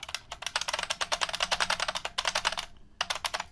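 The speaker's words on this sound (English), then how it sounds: "And if you're wondering what kind of keyboard I have, it's a Unicomp Mini M." Fast typing on a Unicomp Mini M keyboard, loud clacky keystrokes in quick irregular bursts with a couple of short pauses, close and alone.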